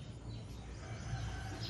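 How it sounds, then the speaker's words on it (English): Roosters crowing faintly in the distance over a steady outdoor background hum on an early morning in a Philippine province, with no clear nearby sounds. "I can hear the roosters crowing in the background."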